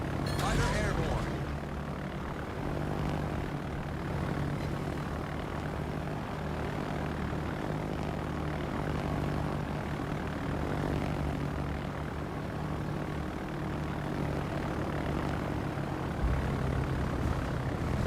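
Fighter aircraft in a video game droning steadily with a propeller-like engine hum, moderately loud and continuous throughout.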